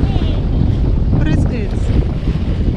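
Water splashing and rushing against a sailboat under way off Martinique, heard continuously with strong wind buffeting the microphone and faint voices in the background.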